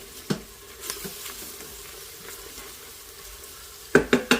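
A utensil stirs gravy in a pan for smothered pork chops: a soft, steady sizzle and scrape runs throughout, with a sharp clink near the start and a quick cluster of louder knocks against the pan at the end.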